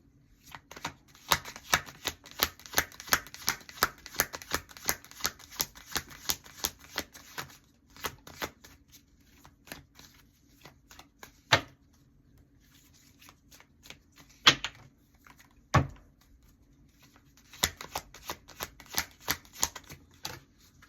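Tarot cards are shuffled and drawn in a long run of crisp, rapid card riffles and taps, close and dry, followed by a few isolated slaps and a final burst of shuffling, with no talking.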